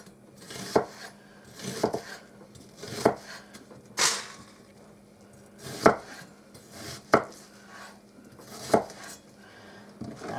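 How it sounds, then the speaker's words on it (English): A knife slices an onion on a board at a steady, unhurried pace, giving about eight distinct close chops spaced roughly a second apart. "Now I'm just gonna slice up my onion."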